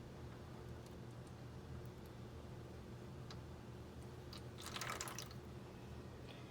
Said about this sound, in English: I will now pour the saline into my container without splashing.